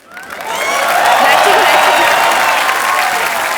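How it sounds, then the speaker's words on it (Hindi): A studio audience on a Hindi TV comedy talk show bursts into loud, sustained applause that builds quickly and holds steady as a guest is welcomed onstage. "आप सबकी जोरदार तालियों के बीच प्लीज वेलकम विदिता बाग"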